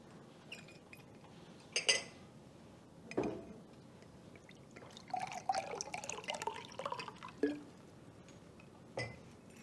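Water sipped during a summit talk: quiet liquid trickles and drips, soft clinks of a glass or bottle, and a few faint sips, all close and low in level, with no speech.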